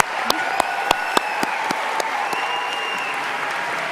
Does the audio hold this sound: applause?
yes